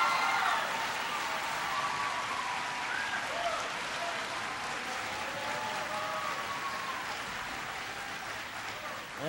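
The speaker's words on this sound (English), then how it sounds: "please give her a big round of applause" Sustained applause fills a school auditorium after an education speech, a dense, steady clapping from a large audience lasting throughout, with a faint voice surfacing near the end.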